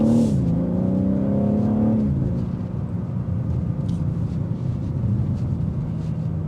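A 2025 BMW M3 Competition xDrive pulling away, its engine rising in pitch over the first two seconds and then settling into a steady, loud, close droning rumble.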